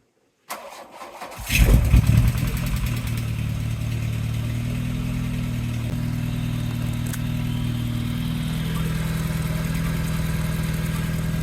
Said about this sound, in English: So we'll put that back on and we'll fire it up.